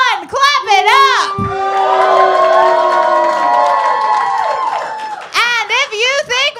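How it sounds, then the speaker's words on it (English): A live wrestling-show crowd cheers and whoops loudly for about five seconds after a spoken prompt, a sustained roar with some clapping underneath, before a voice talks again. "If you think Buff Bagwell won, clap it up."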